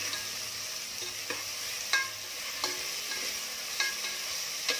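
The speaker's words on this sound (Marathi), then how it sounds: "आता या तेलामध्ये कांदा टाकून रंग बदलेपर्यंत छान भाजून घ्यायचा आहे" Onion fries in oil with a pinch of salt for a chicken masala, a soft continuous sizzle broken by several quiet spoon scrapes and taps against the pan.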